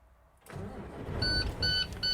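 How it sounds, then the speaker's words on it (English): A Class A truck's engine cranks and catches after a moment of quiet, settling into a steady idle while a dashboard chime beeps repeatedly over it. "Now we're going to start the truck."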